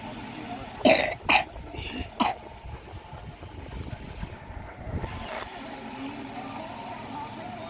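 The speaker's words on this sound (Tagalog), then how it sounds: "Inuubo na naman siya." A person coughs three times in close, sharp bursts, followed by a quieter rough throat sound against low background noise, with no speech.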